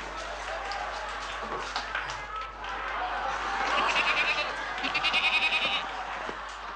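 Goat bleats in quavering, repeated cries, loudest toward the end, mixed with people talking over a busy, noisy background.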